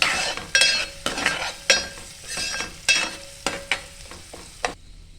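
A spoon scrapes and stirs turmeric and asafoetida through a spicy Maharashtrian chicken rassa in a hot pan, repeated rhythmic strokes roughly every half second over a soft sizzle, close up and with no talking.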